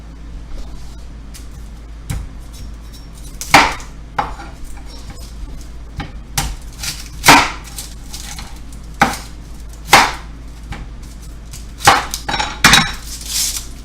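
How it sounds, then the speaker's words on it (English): Knife chopping a large onion on a cutting board in a home kitchen, a series of sharp, irregular thuds and taps up close over a low steady hum. "I'm going to start cutting up some onion"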